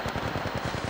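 Rapid automatic gunfire in the Apex Legends Mobile battle royale game, a dense burst of close, loud shots in quick rhythm filling the whole second.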